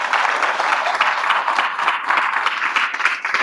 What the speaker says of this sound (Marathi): तर तुमच्यासाठी एकदा जोरात टाळ्या व्हायला पाहिजे.